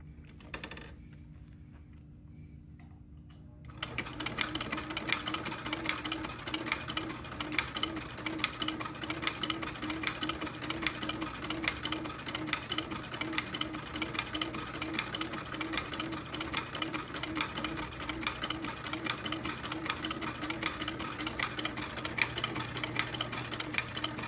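A home sewing machine stitches a buttonhole on a baby bubble garment, running steadily as a close, continuous rapid mechanical whir after a brief quiet start, with no talk.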